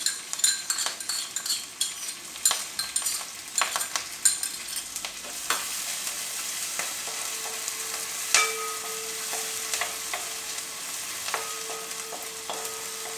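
Crushed ginger and garlic fry in oil for a meat pickle, stirred briskly in the pan with repeated scraping and clinking strokes over a continuous sizzle, no talk.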